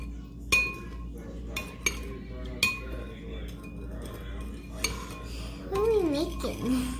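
Sauce is stirred in a pot with a metal utensil, giving several distinct ringing clinks against the pot at uneven intervals, followed by faint voices talking toward the end.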